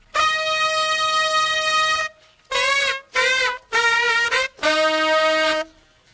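Saxophone plays a horn line, a long held tone followed by short punchy bursts with bending pitch, each note cut off sharply by the tongue into brief silences, loud and close.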